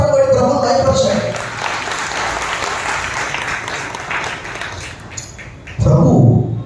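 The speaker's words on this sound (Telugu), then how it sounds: "బిగ్గరగా చప్పట్లు కొట్టి ప్రభువును మహిమపరచండి." Congregation in a church clapping loudly together, a sustained wash of applause lasting several seconds, framed by loud speech at the start and a strong voice returning at the end.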